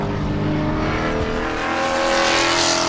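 Race cars at speed on the Sebring circuit during an 8-lap qualifying sprint of the Love Bug Dash, a dense, continuous engine roar with layered revving pitches and faint tire squeal, loud and sustained throughout with no talk.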